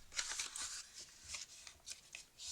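A 21 by 15 cm paper card base for a Halloween card is folded in half at 10.5 cm, giving close, crisp rustles and creasing swipes in short, irregular bursts with no talking.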